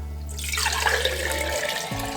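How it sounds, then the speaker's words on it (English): Freshly made ginger juice is poured into a mason jar, a brief steady liquid stream splashing and filling for about two seconds, close and alone. "To store the ginger juice, just pour it into a mason jar"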